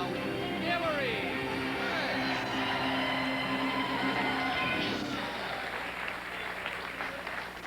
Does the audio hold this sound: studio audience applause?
yes